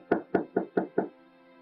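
Knocking on a door in a French-language Nigerian drama film, five firm evenly spaced knocks, close and clear, followed by a quiet room.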